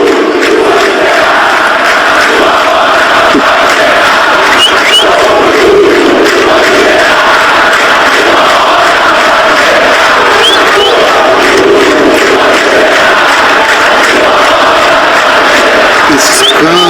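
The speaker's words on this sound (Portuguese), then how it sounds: "Primeiro a torcida do Vasco, mandando um recado aí pro Cheirinho" Vasco football fans chanting in unison, a loud, continuous crowd roar of massed voices singing and shouting, steady and full throughout with a few whistles rising above.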